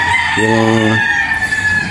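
A rooster on a Batangas game farm crows once loudly and close by in a strong, harmonic call, with other fowl clucking faintly around it.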